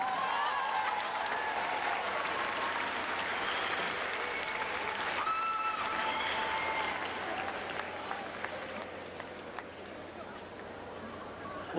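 Applause from a commencement crowd honoring senior class advisors at a 2022 International Academy graduation, a sustained broad wash of many hands clapping that eases slightly near the end, with faint voices mixed in.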